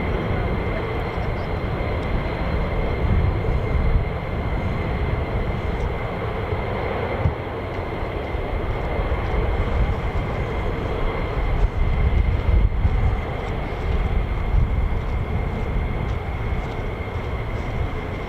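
Military fighter jet, an F-15 or F-35, taking off at RAF Lakenheath, a steady broad roar holding loud and near throughout, with a faint voice briefly under it.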